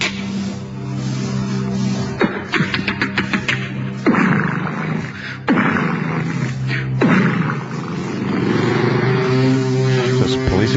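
A comedian on a radio show vocally imitates an aircraft propeller and engine, producing loud sputtering bursts and rising, roaring drones. It is a human voice mimicking the sound, not a real plane.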